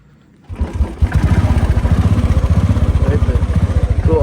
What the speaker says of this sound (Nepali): म त किक हाल्छु अहिले